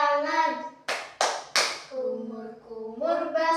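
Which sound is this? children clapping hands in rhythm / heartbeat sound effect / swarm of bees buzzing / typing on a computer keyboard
children clapping hands in rhythm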